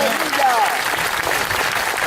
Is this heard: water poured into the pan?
no